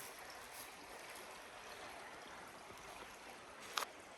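A creek in Pennsylvania flows beneath a bridge, giving a steady, soft broadband rush of moving water throughout, with one brief sharper splash or knock near the end.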